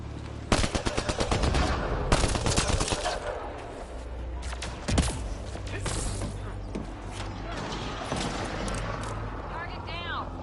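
Rapid gunfire from a firefight in the sci-fi shooter Mass Effect Andromeda, with loud bursts of automatic shots early on and scattered single shots later, under game voices talking.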